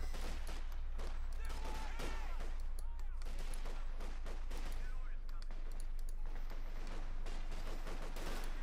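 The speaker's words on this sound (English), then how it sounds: "MP40s, Schmeissers, as they were colloquially known" MP40 submachine guns firing in Company of Heroes 2, rapid bursts of gunfire crackling steadily throughout, fairly distant and layered under a low rumble.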